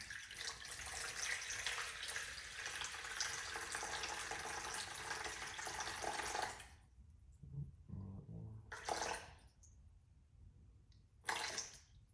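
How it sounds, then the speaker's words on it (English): A steady, hissing rush of 350 grams of water poured into a bowl for sourdough runs for several seconds, then stops, followed by a few quieter clinks and short splashes close by. "we get started with 350 grams of water. Go ahead and pour that in."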